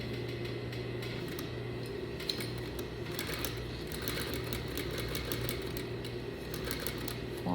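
A sewing machine runs a plain edge stitch along a patch pocket, a steady fast mechanical whir with rapid needle ticking, close and continuous.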